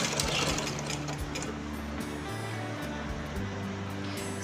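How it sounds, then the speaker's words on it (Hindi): Sewing machine stitching a half sleeve on a garment, a continuous close motor drone with shifting pitch as speed varies and a rapid needle chatter, running steadily throughout. "सेंटर पे से इस तरीके से पलट के यहाँ से सिलाई लगाना चालू करेंगे।"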